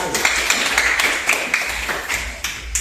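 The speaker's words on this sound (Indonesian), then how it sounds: "Tepuk tangan untuk kelompok 1" Classroom applause for a student group during a physics lesson, a short burst of scattered hand claps with sharp taps rising and falling over about three seconds, fairly close, no talking over it.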